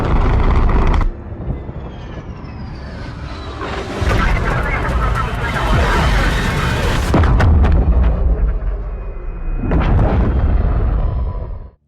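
Explosions destroying Verdansk in the Call of Duty video game boom and roar in loud sustained waves of rumbling blast and debris.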